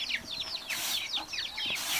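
Chickens feeding on pasta give rapid, high chirps and soft clucks that repeat in quick bursts, close by and moderately loud, with no voices.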